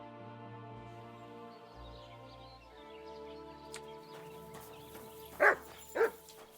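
A dog in the video game Kingdom Come: Deliverance II gives two short barks near the end, over a steady game music and ambience bed.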